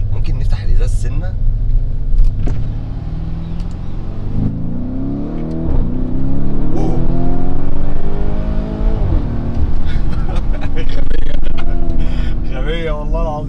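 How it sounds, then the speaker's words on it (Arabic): A car engine revs hard in repeated rising and falling surges as it accelerates, loud and close, with crackling pops from the exhaust between pulls. People talk briefly over the engine noise. "انا عايز اسمعكم صوت الموتور"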